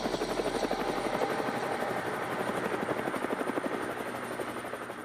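A military helicopter runs close by, its rotor giving a loud, steady rhythmic thumping chop over a constant engine drone throughout.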